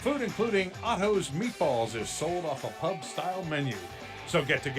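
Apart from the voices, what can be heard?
None of the usual background noises is heard.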